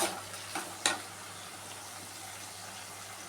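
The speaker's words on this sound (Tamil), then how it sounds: "அது நல்லா வதங்கட்டும்." Brinjal sautés in hot oil in a pan, giving a faint, steady sizzle with a few brief stirring clinks near the start.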